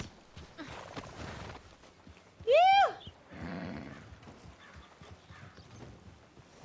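A horse in the Red Dead video game gives a loud, rising and falling whinny in the middle, with soft hoof steps and rustling around it and a little talk before and after.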